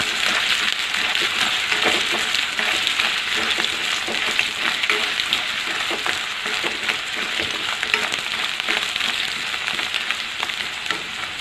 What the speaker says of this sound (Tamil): இது 2 நிமிஷத்தில் இந்த பொட்டேட்டோ வந்து நமக்கு வெந்துடும் அந்த எண்ணெயிலேயே